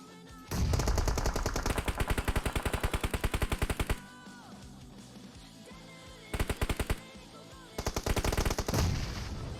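Rapid automatic bursts from a Tommy gun in an online shooter match, long sustained volleys broken by short pauses, then two more bursts, loud and close with faint game noise between.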